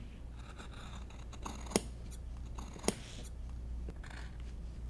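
Scissors snip through cotton fabric pennant pieces for nursery bunting, a soft rasping cut with two sharp, distinct snips standing out against quiet room noise.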